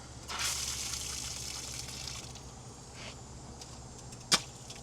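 Water bursts from a pressurized RV hose in a brief hissing gush that quickly tapers off into quiet, followed by a single sharp click near the end.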